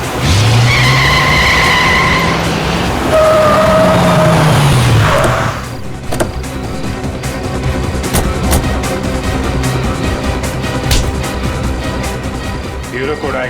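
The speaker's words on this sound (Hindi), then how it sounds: "गाड़ी तेज चलाओ पंकज, और तेज।" A car speeds through a chase with its engine racing and tires skidding loudly, under tense dramatic music and sound effects, with people talking over the noise.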